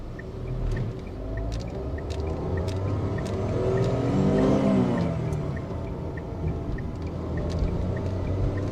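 A Tata Altroz BS6 three-cylinder car engine revs hard toward redline, a steady close rumble whose pitch climbs and swells in the middle, then settles back.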